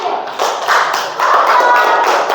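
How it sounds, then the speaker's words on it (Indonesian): Applause from a classroom of pupils for a group of children, a dense burst of clapping hands that swells and holds steady over a couple of seconds, close and fairly loud. "Tepuk tangan untuk kelompok kanguru"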